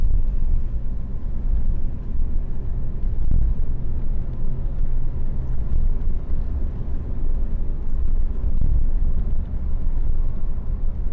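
A 1979 Mercedes-Benz 500 SE W126 cruising in the evening, heard from inside as a steady, full low rumble of engine and road noise with no talk.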